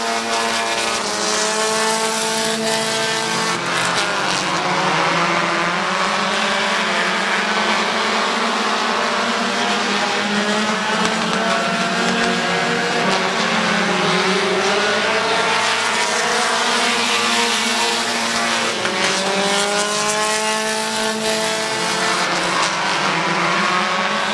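Race cars roar around Midvale Speedway in a loud, sustained engine howl, the pitch sweeping up and down as the cars pass close and pull away, steady throughout.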